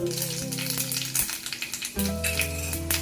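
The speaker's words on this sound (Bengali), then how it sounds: "তেল আমার গরম হয়ে গিয়েছে এবার এই তেলে দিয়ে নেব আমি একটু পাঁচ ফোড়ন" Panch phoron spices sizzle and crackle in hot oil, with a steady bright frying hiss, some stirring clinks and low background hum, close and moderately loud.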